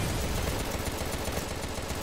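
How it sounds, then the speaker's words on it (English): Rapid gunfire and explosions fill the action game Contra Rogue Corps in a dense, continuous barrage of rattling shots at steady loudness. "I'm not done shooting stuff."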